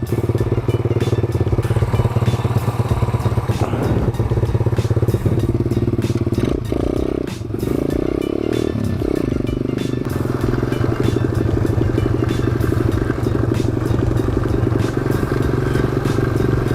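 Thumpstar 140cc pit bike running steadily during wheelie practice, a loud buzzing engine drone with rattling and clattering from the front end, plus a few thumps and scrapes partway through.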